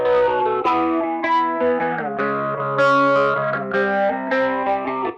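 Electric guitar processed in Ableton Live with phaser, flanger and overdrive effects, playing sustained, swirling chords in a steady run of strums, heard alone without talking.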